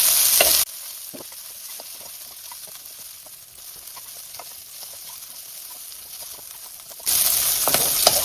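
Onions frying in a heavy pan or wok for a quick blanch before a pork stir fry, giving a steady close sizzle with small crackles, and louder bursts at the start and end.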